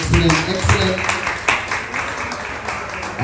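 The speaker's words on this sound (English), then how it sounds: "Give him another round of applause." Audience applause at a medical records symposium, a dense, steady patter of clapping from a crowd lasting a few seconds, with a voice speaking over it.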